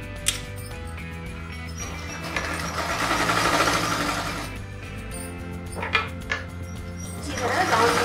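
A sewing machine is heard stitching the seam of a salwar: a close, continuous mechanical whirr with a steady rattle that speeds up and swells in the middle, broken by short clicks and pauses.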